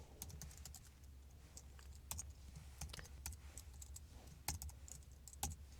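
Rapid typing on a computer keyboard while code is entered, with soft, uneven key clicks and a few sharper, louder keystrokes scattered across the passage, fairly close and with no voices.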